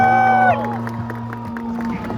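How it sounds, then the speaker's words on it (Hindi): A crowd gathered on the Fatehsagar embankment in Udaipur for an Indian Army Republic Day eve event cheers and claps as a sustained music tone fades, the mixed applause and whoops continuing steadily throughout. "एक बार जोरदार तालियां।"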